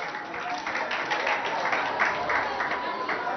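An audience applauds a student contestant on a school television quiz, a dense, steady wash of many hands clapping throughout, fairly close and evenly loud without a break.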